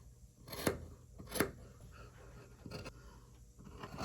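Scissors snip through hoodie fabric at the neckline, giving two distinct crisp cuts close up followed by a softer pair of snips, with quiet handling between them.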